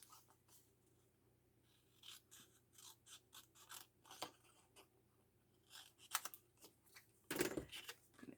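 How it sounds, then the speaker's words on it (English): Scissors snip around a paper piece for a hybrid journal, a quiet series of short crisp cuts in an irregular rhythm, with a louder rustle of paper near the end, no talking. "So now I'm going to cut this piece out."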